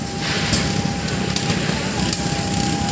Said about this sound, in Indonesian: yang terbakar ini gudang penumpukan plastik yang akan diproses menjadi bahan daur ulang